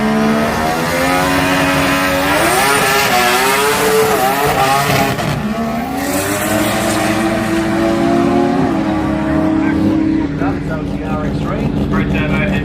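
Race cars, a Torana and a Mazda RX3, rev and roar past at the Garrett Brisbane Jamboree, their engine tones rising and falling continuously while a commentator talks loudly over them.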